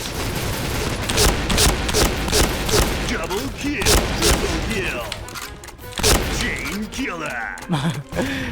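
Rapid bursts of gunfire and thudding shots in the first-person shooter Point Blank, loud and dense in the first half, then thinning into sporadic shots while players talk excitedly over the action.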